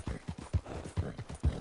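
Horse hooves clip-clop in Red Dead Redemption 2 as a dirty horse walks, a steady rhythm of about eight soft, close thuds, fairly quiet.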